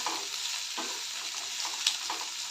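Potatoes with carrot, ginger, garlic and spices are sautéed in a pan, making a steady close sizzle with soft scraping stir strokes and one brief brighter crackle, no voices.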